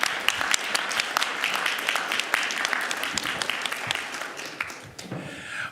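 An audience at a school district board meeting applauds the board members, giving a loud, dense burst of clapping that carries on steadily before thinning out near the end.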